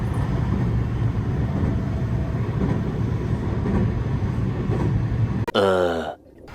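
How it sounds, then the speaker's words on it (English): A steady low rumble and rattle of a moving train in Japan heard from inside, continuous and fairly loud, ending in a brief whooshing sweep. "But this train's just gonna go."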